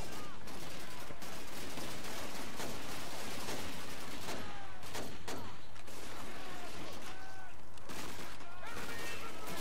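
Rapid gunfire from a long-range rifle in Call of Duty 2, sharp repeated shots cracking amid a dense, constant battlefield din, loud and sustained throughout.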